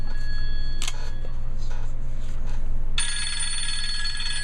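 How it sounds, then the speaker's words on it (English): A phone rings in a workshop with an electronic tone that starts partway through and keeps going, loud and close over a steady low hum, with no talking. "This is my phone, I'll disregard it, okay? I'll call it later. Let it ring."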